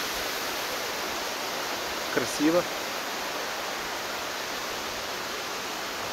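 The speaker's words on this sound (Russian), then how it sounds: "Внизу под нами река, горный ручей" A mountain stream rushes in a steady, even wash below a cable car at the Rosa Khutor ski area, heard from above; one short spoken word cuts in briefly.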